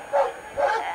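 A police dog gives two quick barks close by, separated by a short pause.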